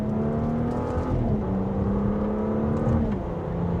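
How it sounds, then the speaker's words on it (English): A 2026 Audi SQ5 accelerates in second gear in dynamic mode, its engine rising in pitch in a smooth, moderately loud, continuous drone heard from inside the cabin, without talk. "we'll go into second gear here, give it a little acceleration."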